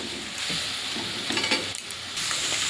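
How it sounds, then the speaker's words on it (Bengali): Soybean chunks fry in a little oil with a continuous close sizzle, broken by a few quick scraping and clinking stirs of a utensil against the pan, with no voices. "এবারে সয়াবিনটা হালকা তেল দিয়ে ভেজে নেব"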